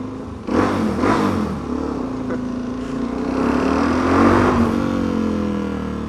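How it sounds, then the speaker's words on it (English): Motorcycle engine revving with a quieter exhaust, a couple of short throttle blips followed by a sustained mid-level drone that swells again toward the end, heard nearby and alone. "You may notice the bike is a little quieter than it was before."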